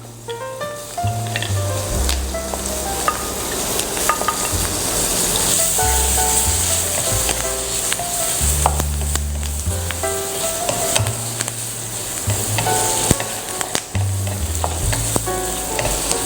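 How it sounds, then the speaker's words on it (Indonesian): Red chili and garlic fry in oil with a loud, dense, continuous sizzle, close and steady throughout, with occasional sharp crackles and stirring clinks. "setelah bawang putihnya keluar aromanya, kita masukkan cabai merahnya dulu"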